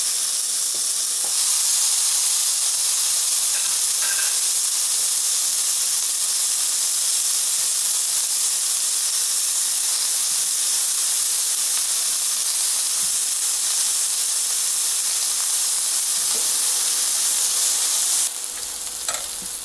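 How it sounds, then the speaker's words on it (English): Food sizzles on a preheated indoor smokeless grill in a steady, loud, hissing fry that runs unbroken for the whole stretch. No voices are heard. "The first thing you do, of course, is preheat the grill, then add the goodies."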